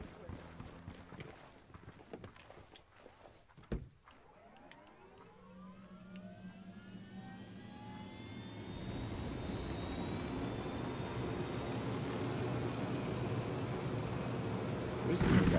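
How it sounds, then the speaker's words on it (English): Helicopter in the Ghost Recon Wildlands video game, its engine and rotor noise rising from quiet to a steady, loud whine with a faint sweeping pitch over several seconds, ending in a sharp swell. "Helicopter."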